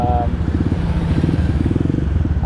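A Kawasaki KLX 150 BF dirt bike on a test ride with factory settings, its single-cylinder engine chugging close by in a steady pulsing putter, with a voice briefly heard at the start.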